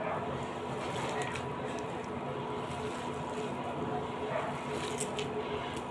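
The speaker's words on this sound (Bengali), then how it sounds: "তো এবার আমি সবগুলোকে মেখে নেব" Papaya pakora batter with lentils is worked by hand, giving soft, wet squishing and sticky slapping sounds, close and fairly quiet, repeating irregularly over a low room background.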